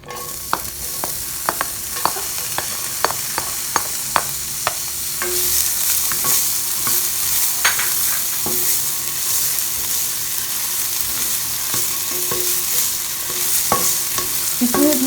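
Ginger sizzles and crackles in hot oil while being stirred in a pan for a Filipino santol dish, a continuous frying hiss with frequent scraping stir clicks throughout, no voices.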